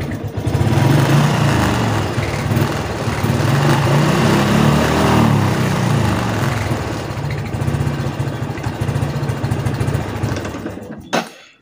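A fuel-injected Honda Revo Fit motorcycle with a fault that makes it stall when throttled runs loud and close, a buzzy single-cylinder idle swelling with throttle blips before abruptly cutting out at the end.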